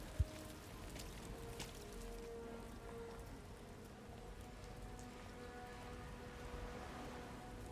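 Steady rainfall patters in the Resident Evil Requiem video game, a dense, even hiss of drops on surfaces, faint and constant throughout, with a brief sharp click near the start.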